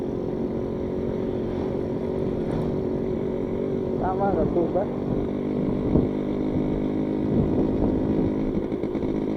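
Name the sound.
Yamaha motorcycle engine running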